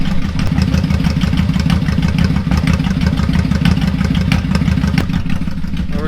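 A new motorcycle idles steadily just after its idle screw has been turned up slightly, the engine keeping a continuous low, even chug with a faint mechanical clatter and no voices.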